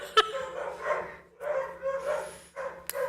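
A dog barks in a few irregular bursts over a low steady hum, with bark-like yelps at mid loudness and brief clicks between them.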